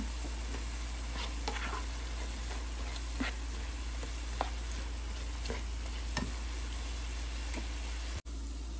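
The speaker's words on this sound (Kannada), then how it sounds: "ಈಗ ತರಕಾರಿಗಳನ್ನ ಇದಕ್ಕೆ ಸೇರಿಸೋಣ" Carrots, green peas, cauliflower and potato go into a pan of sizzling vegetable kurma masala, giving a constant hissing fry with scattered light clinks and scrapes of stirring, close by and without speech.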